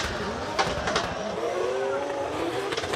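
Formula Drift Japan cars at Suzuka Twin sweeping through a chicane, engines revving and tires squealing in quick bursts at mid distance over crowd and commentary ambience.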